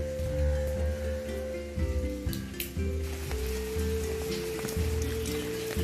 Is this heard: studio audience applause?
no